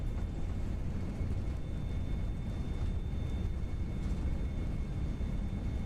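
Airbus A320 engines roaring in reverse thrust during landing rollout in a flight simulator, a steady, loud broadband rush that holds even throughout with a faint tonal whine running underneath.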